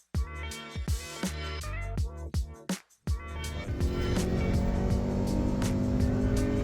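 A Ferrari drives by with a sequence of sharp, loud engine bursts and gear-change pulses, then a brief gap, followed by a sustained, steady engine roar that keeps building.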